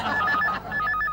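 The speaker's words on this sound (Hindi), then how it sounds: "फोन।" A telephone rings with a bright electronic trill in two quick bursts separated by a short gap, loud and close, with no talking.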